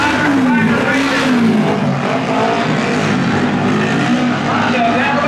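Racing motorcycles, including a Harley-Davidson and a Honda in an expert twin heat, roar down the back straight of a race track, a continuous loud engine drone with rising and falling pitch, mixed with an announcer's voice.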